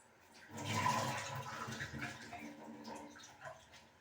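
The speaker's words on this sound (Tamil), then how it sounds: "இந்த பருப்பை நல்லா களைஞ்சிட்டு" Lentils for sambar rice are rinsed and swished in water, giving a soft, close sloshing and splashing that swells and then tapers off. No one speaks.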